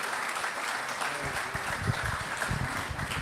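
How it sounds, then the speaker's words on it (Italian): An audience applauds at a local book festival gathering, with steady, moderately loud clapping throughout and a few low murmurs underneath. "si meritano un applauso"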